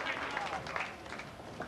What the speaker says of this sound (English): Nice round of applause for Lou Alberghini.